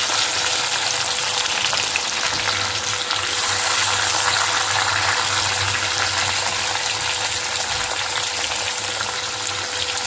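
Tomatoes frying in a pan with onion, ginger and garlic for biryani, a loud continuous sizzle and crackle close up, steady throughout with no one speaking.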